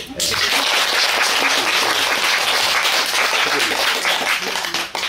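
A seated audience at a testimonial talk breaks into loud, dense applause that starts abruptly and holds as a continuous roar of many hands for about five seconds before thinning at the close.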